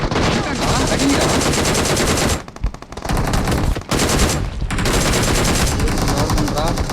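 Rapid automatic gunfire in the BGMI battle royale game, loud and near, with bursts running almost continuously and two brief pauses, while players' voices sit faintly underneath.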